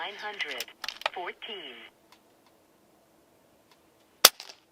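A single sharp shot from an Air Arms S510XS Stealth Carbine .177 air rifle firing a pellet, close and crisp, following a stretch of talking and a brief quiet pause.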